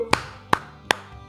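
Three sharp hand claps ring out at an even pace, close and distinct, with quiet between them.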